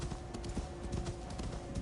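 A horse's hooves clip-clop in a quick, steady rhythm in a video game, close and clear against a constant background bed.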